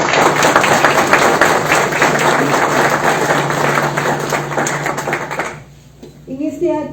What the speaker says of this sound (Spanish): Les pido un aplauso para estas importantes.